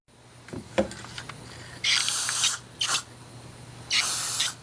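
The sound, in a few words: aerosol spray can spraying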